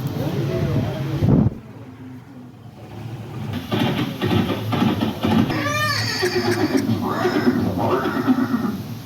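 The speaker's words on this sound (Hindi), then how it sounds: "ये दृश्य महाराणा प्रताप और सुविख्यात स्वामी भक्त घोड़े चेतक के अंतिम मिलन का है।" A horse neighs in a historical scene of Maharana Pratap and his loyal horse Chetak, with rising whinny calls midway over steady background drama sound, and voices at times.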